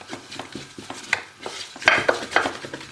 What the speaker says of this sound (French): on mélange bien jusqu'à ce que ça se détache parfaitement